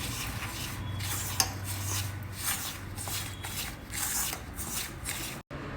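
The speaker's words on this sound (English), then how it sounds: "Mix the butter well with all the other ingredients." Unsalted butter is rubbed into flour by hand for vella seedai: soft, close rustling and rubbing, steady and quiet, with brief scrapes and a light tap now and then.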